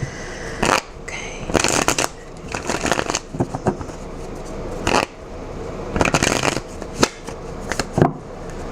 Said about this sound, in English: I am also going to be shuffling the cards on camera now